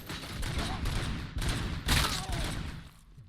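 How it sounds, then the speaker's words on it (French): In Robocop: Rogue City, a grenade blows up a turret amid a firefight: loud gunfire bursts and thuds, then a sharp explosive burst near the middle before the noise fades. "Le coup de la grenade qui explose la tourelle, c'était plutôt cool."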